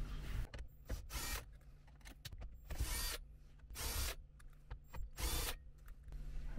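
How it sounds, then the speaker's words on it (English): A power drill runs in repeated short whirring bursts, removing 10mm bolts from the dash of a Toyota 4Runner behind the climate control panel, with quiet clicks and handling noise between the bursts. "you'll notice that there's 4 10mm bolts that we need to remove"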